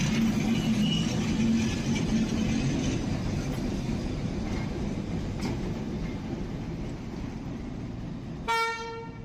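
A steady low rumble and rolling clatter as a shunting locomotive slowly moves the wagons of a Moldova-to-Bucharest overnight train, ending with a short sharp horn toot.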